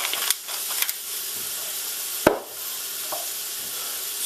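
Scrambled eggs hiss and sizzle in a hot pan with pepper added, a steady bright frying hiss broken by a few clicks and one sharp scrape of stirring.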